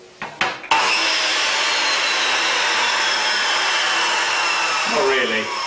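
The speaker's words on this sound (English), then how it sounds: "and a chop saw" A few knocks, then a power saw whines into a loud, sustained cut that holds steady for several seconds before winding down.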